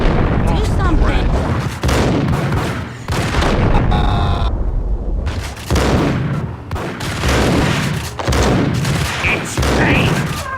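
Gunfire in the Max Payne video game rings out in repeated loud bursts, mixed with game character voices talking over the shooting.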